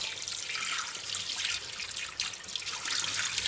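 Part of a Slowstar juicer rinsed under a running tap, a steady dense hiss of flowing water splashing over plastic, close and continuous, with no talking.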